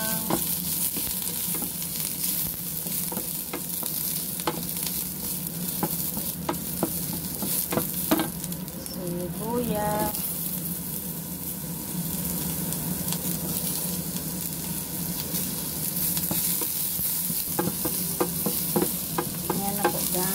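Garlic sautéing in a hot pan while shrimp dishes are cooked, a steady close sizzle with scraping stir strokes, one brief clatter near the middle.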